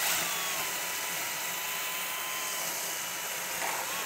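Power drill running continuously while driving screws into a timber-frame wall, a steady close whirring whine held throughout without pauses.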